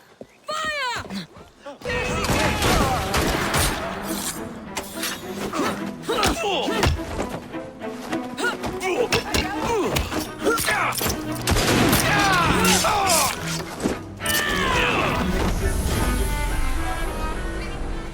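A volley of gunfire in Assassin's Creed Syndicate, with repeated rapid shots, heavy thuds and impacts crowding together over several seconds, dense and loud with short pauses and some voices mixed in.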